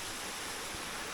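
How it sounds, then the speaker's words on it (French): Constant hiss of a small waterfall splashing along a hillside path, even and moderately loud with no voices over it. "Regardez comme c'est joli avec la cascade, une petite cascade hein"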